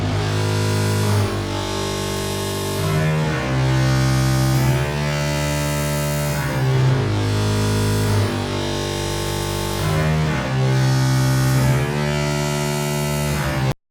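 Drawn-out sustained bass notes from a trauma sample kit hold long pitches that shift every couple of seconds, loud and dense within a full beat, with no talking.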